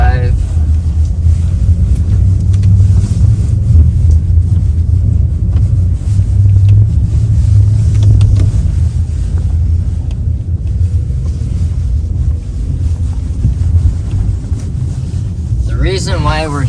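A car in four-wheel drive pushes through an unplowed snowy lot with a steady, close, low rumble of engine and tires. It continues with little change in loudness, with talk over it.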